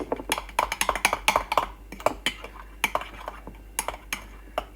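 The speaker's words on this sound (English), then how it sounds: "you're using the teaspoon like it's a whisk and turning into like a creamy base" A teaspoon whisks cake batter and melted butter in a mug, rapid irregular clinks and scrapes of metal against ceramic, close and crisp, some strokes in quick bursts and others spaced out.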